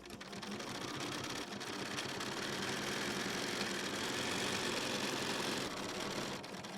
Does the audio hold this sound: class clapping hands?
no